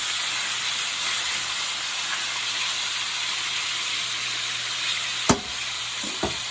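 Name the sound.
pork ribs and sausage searing in a pan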